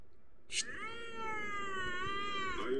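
A kitten lets out one loud, drawn-out meow that holds steady for about two seconds, close and clear over a quiet room.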